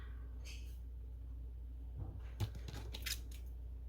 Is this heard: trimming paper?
yes